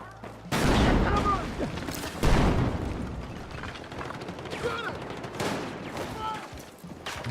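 Shotgun blasts in a first-person shooter: two heavy, booming shots about two seconds apart, followed by scattered lighter gunfire and mechanical clacks. Faint voices are heard between the shots.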